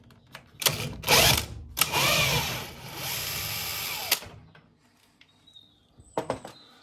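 A power tool loosens a 13mm transit bolt on a Bosch Serie 4 washing machine, loud close whirring bursts that run for a couple of seconds, then fade to light metallic clicks and handling.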